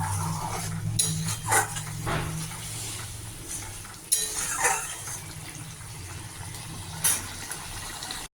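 Rohu fish curry with chopped coriander being stirred in a pan, with a spoon scraping and clinking against the metal in irregular strokes over a steady low kitchen hum, close and moderately loud, no talking.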